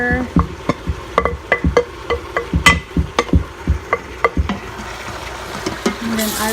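Ham sautéing in a pan, with a run of sharp utensil knocks and stirring clatter over a low sizzle that settles into steady frying toward the end.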